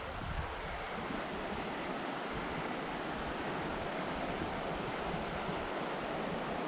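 Continuous rushing roar of the Obstacle river flowing in Patagonia, a steady broadband wash heard close with some wind buffeting, no voices over it.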